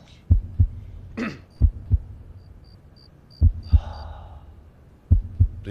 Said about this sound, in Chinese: 心跳的声音